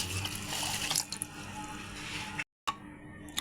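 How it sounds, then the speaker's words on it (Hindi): Water splashes from a tap into a vessel of ground falsa fruit for sharbat, a close, fairly quiet gushing and trickling with brief drips, cut by a short silent gap near the end. "तो अब इसमें शामिल करूँगा मैं पानी के 1"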